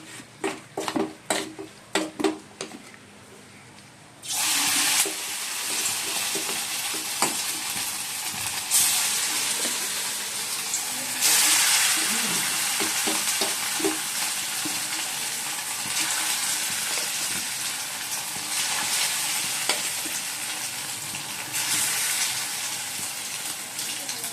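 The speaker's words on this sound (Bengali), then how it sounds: "চিকেনগুলো ভেজে নিচ্ছি" Chicken pieces fry in hot oil in a wok with a loud, steady sizzling hiss that begins abruptly after a few scattered knocks and continues close up, rising in bursts.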